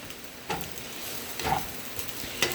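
A spatula scrapes and taps softly in a pan while shrimp fried rice with soy and oyster sauce is stirred, several faint, spaced strokes over a quiet background sizzle.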